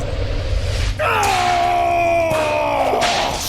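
A man screams in a video game about Thor, God of Thunder, one long, loud, strained cry lasting several seconds over a dense background.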